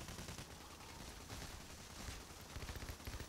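Dense, continuous gunfire from the Payday heist video game, Room of Fear mission, rattling as sustained bursts at a fairly low level, with a few heavier shots standing out near the end.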